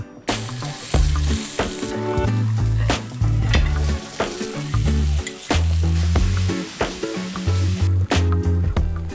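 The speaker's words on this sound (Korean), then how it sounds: "기름을 두른 팬에 간마늘과 대파, 양파, 새우를 차례대로 넣고 볶았습니다" Garlic, green onion, onion and shrimp stir-fried in an oiled pan: steady loud sizzling with frequent clanks and scrapes of a utensil stirring against the pan, close and continuous.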